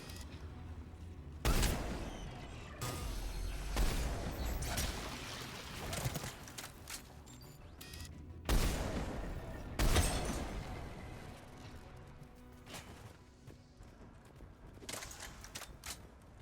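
Bursts of gunfire and explosions in the video game Mass Effect 3, several loud booming blasts with crackling volleys between them, rising and fading over about sixteen seconds amid game ambience, with no speech.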